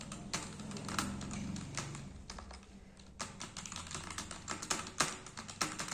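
Steady typing on a cheap, roughly 200-rupee keyboard during an online typing test, a continuous stream of close, crisp key taps with a few louder strikes, heard alone without talk.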